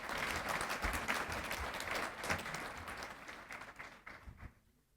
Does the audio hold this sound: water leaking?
no